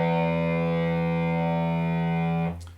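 An electric guitar with distortion rings out a sustained B octave, held steady and loud for over two seconds before being cut off abruptly.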